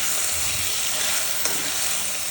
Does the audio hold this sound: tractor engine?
no